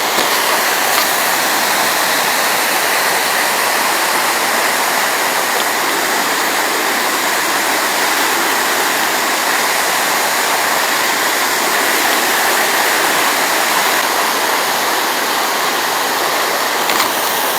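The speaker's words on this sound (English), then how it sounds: "Right now I'm in some extreme rapids." Loud, steady rushing of fast water tumbling over rocks, a continuous close roar with no pauses and no voices.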